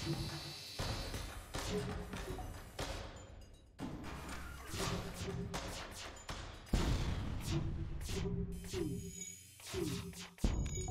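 Missile volleys launching in a starship battle in the video game FTL, several sharp thumping shots in quick bursts with game sound effects between them.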